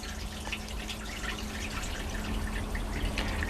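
Water moving inside a WonderWash hand-crank washer during the rinse cycle: soft, continuous trickling and dripping, faint and close, with no talk.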